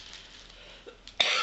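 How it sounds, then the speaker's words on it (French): A woman with a cold gives a single sharp cough at the very end, indoors, after a quiet stretch with faint handling noise. "Je tousse parce que je suis enrhumée."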